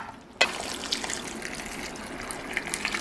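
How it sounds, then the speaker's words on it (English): Water with a dissolved beef cube pours into a cooking pot of matoke and tripe stew, a sudden splashing gush that starts abruptly and keeps running steadily, close by, with no voices. "So I'm adding the water with the beef cube in it."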